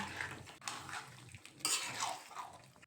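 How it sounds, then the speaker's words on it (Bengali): Chicken with spices being stirred in a pan for chicken chaap, giving steady metal scraping and clinking of a utensil against cookware, with a few sharper knocks, close and moderately loud, no talking. "দিয়ে এইভাবে অনবরত নাড়াচাড়া করতে হবে"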